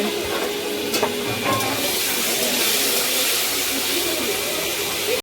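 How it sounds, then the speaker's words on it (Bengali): A hilsa fish head sizzles in hot oil in a kadai, giving a dense, constant frying hiss with a few faint clinks near the start. "দেখতেই পাচ্ছ কড়াইতে ইলিশ মাছের মাথা চলে গেছে"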